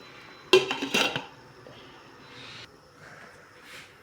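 A metal lid clanks onto a pot of salmon soup on the stove, two quick bright clatters of metal against metal close by, followed by faint rattling and quiet kitchen sounds.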